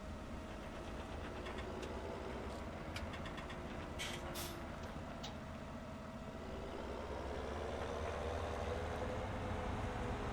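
An oversized tractor's engine runs in Farming Simulator 17, a steady low diesel drone that holds throughout with a constant rumble and faint higher clatter, no voices.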